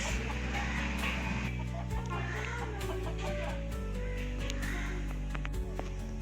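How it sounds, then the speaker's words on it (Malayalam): Chickens cluck softly on a small home farm among banana and coconut plants, the calls scattered and fairly close, over a steady low hum. "ഇത് കോഴി."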